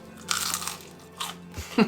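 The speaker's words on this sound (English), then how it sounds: "Listen to that crunch." Crispy frozen tofu dipped in barbecue sauce crunches as it is bitten and chewed, giving several loud, close crackly bursts separated by brief pauses.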